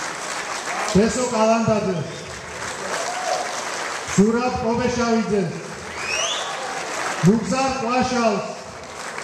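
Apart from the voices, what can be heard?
audience applause welcoming guest stars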